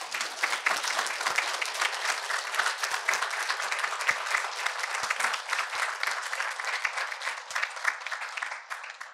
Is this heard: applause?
yes